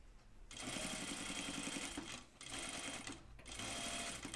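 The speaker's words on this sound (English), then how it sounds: "As long as my needle is staying to the right of this original stitching, we know we're stitching on the neckband" A sewing machine stitching a jacket neckband runs in three fast, loud bursts separated by brief pauses, its rapid needle hum steady and close with no talking.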